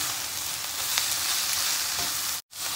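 Spinach filling mixed with chili flakes, basil and salt cooking in a pan, a steady, loud close sizzle and fry that runs without a break, then cuts out briefly near the end and resumes.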